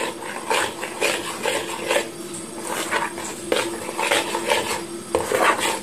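A utensil stirring ingredients with almonds in a metal pan, repeated close scraping and clinking strokes in a steady rhythm, loud and without talk.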